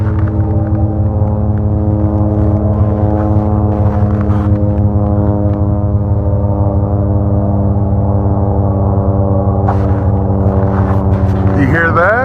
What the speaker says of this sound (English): That's the plane. You hear that?